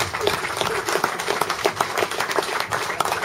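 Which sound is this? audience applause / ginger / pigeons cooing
audience applause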